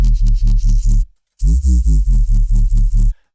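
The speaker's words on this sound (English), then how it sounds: "look for this erosion effect" Soloed synth sub bass with an erosion effect adding white-noise hiss: a rapid pulsing run of deep throbbing notes with a gritty noisy top, a brief gap, then another burst of pulses before stopping.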